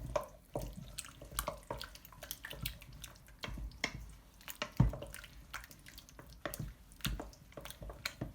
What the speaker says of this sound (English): Then I'm just gonna mix this all together.